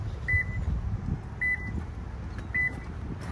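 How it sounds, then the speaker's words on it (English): Three evenly spaced short electronic beeps from a Subaru during PIN code setup sound about a second apart over a low, quiet background hum. "you'll hear it beeping just like this"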